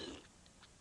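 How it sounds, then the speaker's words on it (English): A cartoon burp contest, with a quiet, short belch-like rasp at the start that fades into a faint hiss. "Watch this. The burp champion of the world."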